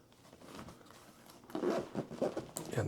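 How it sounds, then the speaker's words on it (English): A zipper being drawn shut on a new, padded Vanguard Alta Rise 33 camera backpack, its stiff teeth giving a few close, scratchy pulls in short bursts that grow louder toward the end. "the zippers are not opening as nicely as I would like"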